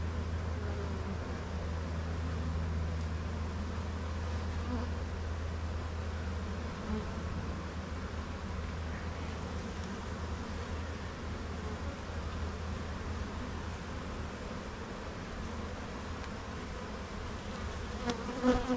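Honeybees buzzing steadily around an opened hive during a colony split, a dense continuous hum at moderate level with no voices over it.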